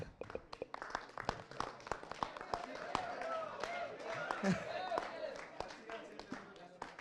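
An audience at a comedic meet between the Mithra Mandali film team and memers claps, with sharp, dense, uneven claps throughout and voices talking underneath.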